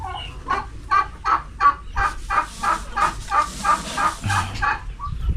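A turkey gobbles in a rapid, rhythmic series of throaty bursts, close and fairly loud, with a faint low bump near the end.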